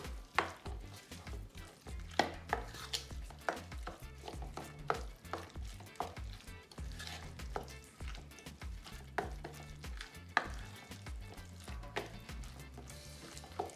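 Jamaican green banana salad with mince beef being mixed in a pot or bowl: a busy, fairly quiet run of clacks, scrapes and knocks from a utensil against the container, steady and uneven, with no talking.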